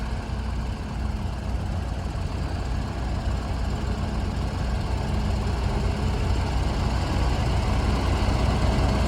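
A powerful Holmer harvester works in deep, soggy mud, its engine giving a loud, steady, low droning rumble that holds without a break from start to finish.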